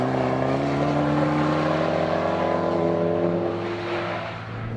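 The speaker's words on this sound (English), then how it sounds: "drive it and hammer on it through little corners like this" A Fiat 500 Abarth Turbo is driven hard through corners, its engine droning loud and close with a steady revving note that eases off slightly near the end.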